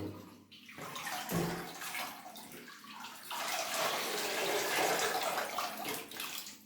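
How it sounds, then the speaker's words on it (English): Water pours steadily into a potted orchid, a close, continuous splashing and trickling that swells louder midway, with no talking. "And I'm chucking in water until the roots start to green up."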